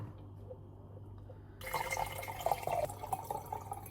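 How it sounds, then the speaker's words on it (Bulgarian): Filtered water poured into a jar for homemade kefir, quiet room hum at first, then a sudden splashing, trickling pour that continues to the end, close and moderately loud. "Сега ще си налея филтрирана вода."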